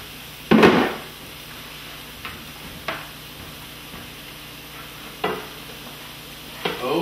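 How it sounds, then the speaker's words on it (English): Chopped onions are stirred into sizzling ground meat in a skillet for cheeseburger mac, with a few sharp scraping and clanking hits of a utensil against the pan over a faint, steady frying hiss. "now we get to throw that into the meat"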